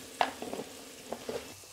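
Onion cooks in a pan, a quiet low sizzle under a few soft scrapes and taps of a stirring spoon, no one speaking.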